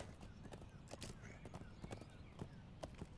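Hooves clip-clopping at a steady walking pace from a horse at a camp in the video game LOTRO, a rhythmic series of soft, fairly quiet hoof strikes over low ambient background.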